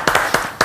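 A handful of sharp hand claps, about four in under a second, from a small audience at a German TV show waiting for a band, close and unevenly spaced.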